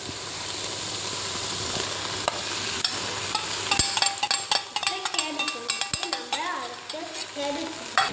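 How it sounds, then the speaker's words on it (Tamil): Cabbage and dal being stirred in a frying pan, with a steady sizzle and repeated scraping strokes of the spoon that grow busier toward the end; close and moderately loud, with no talking. "அடுத்து பருப்பு சேர்த்தோம், நம்ம நல்லா கிண்டி விடலாம்"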